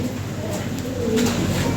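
Soft pigeon coos drift through a steady background hum, low and murmuring, with a few brief louder calls near the end.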